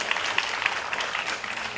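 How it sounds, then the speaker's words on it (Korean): A school audience of students gives brief applause after a business model research presentation, a dense patter of clapping at moderate volume, fairly even throughout. "다시 한번 큰 박수"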